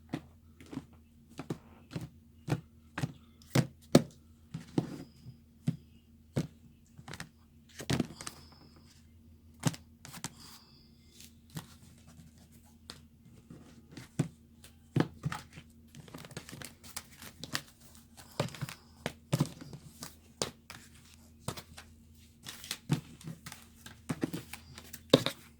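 Tarot cards are mixed by hand for a long stretch, giving irregular soft slaps, taps and papery rustles that come in quick clusters and pauses, near and fairly quiet, with no talking.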